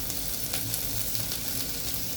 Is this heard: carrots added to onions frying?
yes